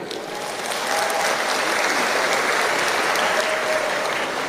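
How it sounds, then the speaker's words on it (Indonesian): Audience applause at a Nahdlatul Ulama (NU) talk, a broad, even patter of many hands clapping. It rises slightly after the first second and then stays level, with no speech over it. "Tepuk tangan untuk NU."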